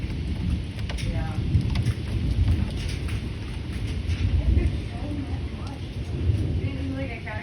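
Heavy tropical storm rain pours steadily with low rumbling thunder underneath, a dense, loud, continuous wash of noise throughout.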